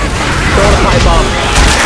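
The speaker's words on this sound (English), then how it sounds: "Throw the pipe bomb." A pipe bomb goes off during a tank fight in Left 4 Dead 2, a loud, dense blast of booming rumble mixed with gunfire and shouted voices.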